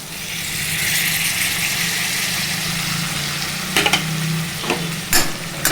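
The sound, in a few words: tomato pieces added to pan and stirred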